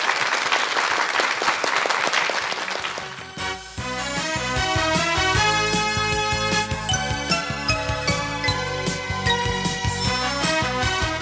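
Studio audience on a Korean morning talk show bursts into sustained applause for a hip-hop duo, dense clapping for about three seconds before music with chimes and a beat takes over.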